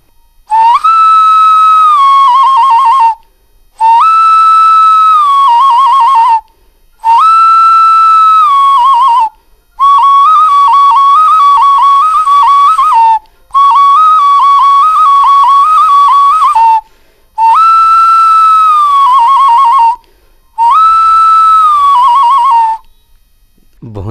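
Kuhki, a folk wind instrument once used to call to one another in the forest, blows a series of about seven loud, sustained whistling notes, each a couple of seconds long with slight pitch bends, separated by short silent gaps.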